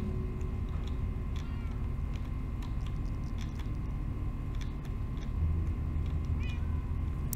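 A few faint cat meows come and go over a low, constant background hum in Minecraft, with no talking.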